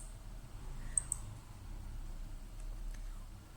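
Two sharp computer mouse clicks close together, made while opening the Appearance item of a WordPress dashboard menu, with a faint third click later, set against a low steady room hum.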